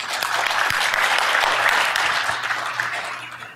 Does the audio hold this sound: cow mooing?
no